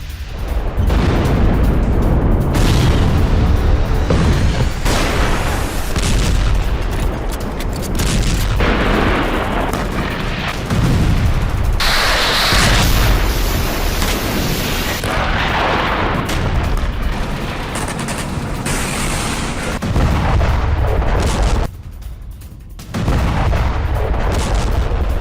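Heavy booms and bursts from a missile attack launched from a Bradley vehicle on a Ukrainian frontline, loud and continuous, with blasts rolling over one another and a short lull near the end.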